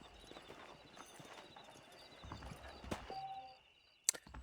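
Horse hooves clip-clopping in the video game Red Dead Redemption, a quiet, even walking rhythm under faint ambience, ending in a brief sharp chime.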